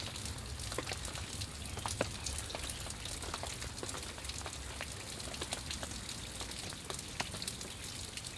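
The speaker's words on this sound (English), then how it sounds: "Rain is slowing down." Light rain is easing off, scattered drips and patters falling faintly and irregularly over a soft hiss of background noise.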